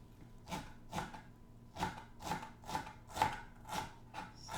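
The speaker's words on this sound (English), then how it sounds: "Alright, so we'll slice the ginger first. Just thinly slice." A knife thinly slices ginger on a cutting board, nine or ten crisp, evenly spaced chops close by, with no talk.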